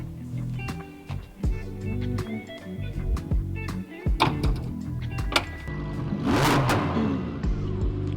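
A Lamborghini Huracan's V10 engine revs up in a loud, rising burst amid steady car noise and a couple of door thunks, with the revving swelling near the end.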